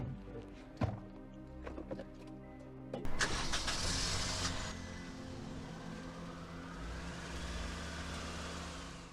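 A car door thunks shut, then the engine starts and revs as the car pulls away, its loud engine noise slowly fading as it drives off.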